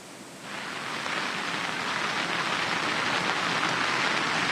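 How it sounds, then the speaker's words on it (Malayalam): Heavy rain at Chooralmala in Wayanad rises from a softer patter into a dense, constant hiss after the first half second, steady and fairly loud with no voices. "വലിയ രീതിയിൽ മഴ ഈ ചൂരൽമല പ്രദേശത്ത് പെയ്യുന്നുണ്ട്"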